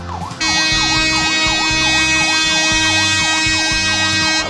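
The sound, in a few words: horn of the ship KM Ihan Batak calling passengers at Ajibata port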